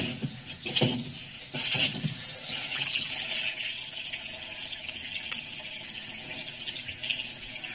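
Water runs from a kitchen tap into a glass for ice water, a steady splashing hiss that starts with a few louder gushes and then settles to an even flow.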